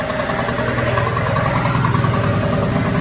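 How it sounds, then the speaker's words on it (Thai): An air dryer machine blows dry air into a power transformer at an electrical substation, producing a loud, steady mechanical hum and rushing drone with constant vibration, close by and with no one speaking. "ตอนนี้เสียงที่ได้ยินอยู่เนี่ยก็เป็นเสียงของเครื่องแอร์ไดนะครับ"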